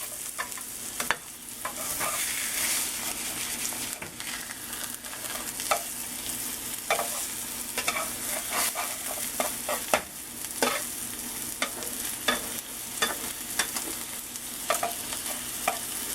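Eggs cooking in a pan on a stovetop burner at moderate heat, a steady soft sizzle with frequent sharp scraping and stirring clicks from a utensil, close and continuous with no talking.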